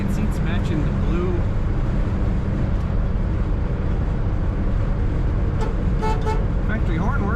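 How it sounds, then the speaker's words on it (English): Factory horn on a 1965 Chevrolet Corvair Monza convertible gives a few short toots amid steady loud road and traffic noise, with a voice talking over it. "Factory horn works."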